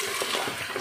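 Boiled mung beans poured out of a full pot, a brief continuous liquid splash and gush heard alone, close up.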